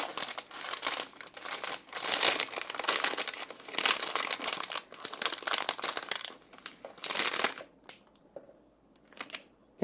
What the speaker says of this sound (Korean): 그대로 다시 이 비닐에 실을 넣어주세요.